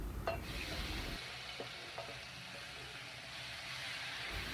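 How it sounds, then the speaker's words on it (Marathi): A ground paste of coconut, ajwain, ginger and green chilli hits hot oil with asafoetida for a Surti undhiyu, a soft hiss and sizzle with a few light stirring knocks, close and fairly quiet. "आता ह्यामध्ये जे हे वाटण आपण करून घेतलं होतं ते घालते मी"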